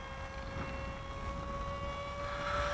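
Freewing F9F Panther electric RC jet on a 4-cell battery flying with the throttle eased back, giving a faint steady fan whine at a constant pitch that swells slightly at the end, heard from a distance without talking.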